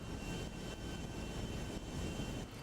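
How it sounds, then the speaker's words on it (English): A large airplane's engines drone in flight in GTA 5, a dense, steady, broadband roar that stays loud and unbroken throughout, with no voices. "It is kind of slow up in the air, but it's to be expected with a plane this big."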